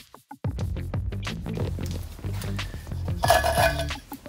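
Metallic clinking and scraping as the thermometer gauge is unscrewed from a Lidl mini Kamado grill, a close, busy run of small clicks and rattles that swells toward the end.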